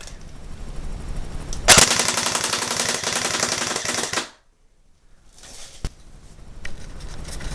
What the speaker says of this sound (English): Alright, switching it to full automatic.